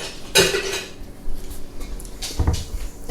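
A spoon clinks against a bowl of cookie dough, with one loud metallic strike early on and a softer knock later, surrounded by quiet room tone and no voices.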